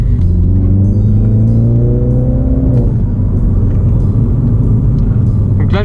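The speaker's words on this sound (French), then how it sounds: "Je sais pas si vous pouvez vous rendre compte du bruit de l'échappement, mais c'est vraiment sympa." Mini John Cooper Works F56 in sport mode, its engine droning steadily with a rising exhaust note that eases off near the midpoint into a loud, continuous rumble heard from inside the car.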